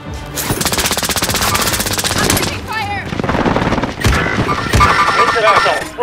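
Rapid machine-gun bursts in Call of Duty Warzone, dense and loud automatic fire rattling for a couple of seconds, then scattered shots and further volleys, with voices speaking over the combat.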